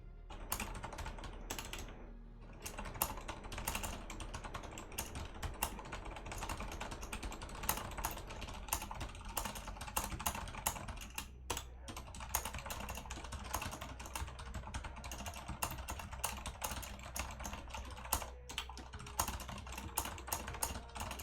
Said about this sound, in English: that's the fastest I've typed on this keyboard